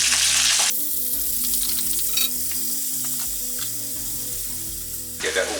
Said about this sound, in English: Pour in the rest of our marinade with the garlic